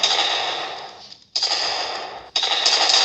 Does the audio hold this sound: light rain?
no